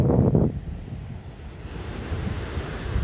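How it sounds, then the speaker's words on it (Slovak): Large ocean waves wash in beside a long pier at a beach in Salalah, Oman, one surge breaking near the start before a steady windy roar of surf carries on with buffeting wind noise on the microphone. "sú veľké vlny, čo sa týka oceánu."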